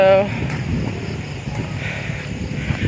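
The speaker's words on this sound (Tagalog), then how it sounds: "nakikita nyo naman po guys na ang super mahangin po" Steady strong wind buffeting the microphone with a low rumbling roar, broadband and continuous throughout, with faint voices in the background, out in farm fields in the morning.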